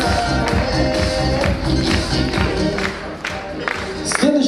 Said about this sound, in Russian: Громкие аплодисменты этим ребятам